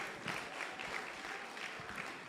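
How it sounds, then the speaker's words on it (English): An audience at a children's summit breaks into applause for the camera crew, a steady soft patter of many hands clapping, fairly distant and low in level. "Let's just clap for them because I've seen beautiful shots."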